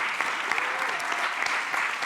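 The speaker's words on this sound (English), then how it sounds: "A warm round of applause for you" A conference audience applauds a speaker before a lunch break, dense steady clapping from many hands, brief and even in level.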